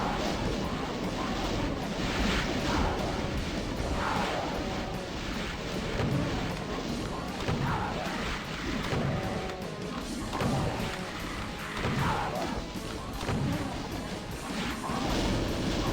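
BFG firing in Doom II on Ultra Violence with fast monsters, heard as repeated heavy explosive blasts and crashing booms every couple of seconds, loud and dense over continuous game noise.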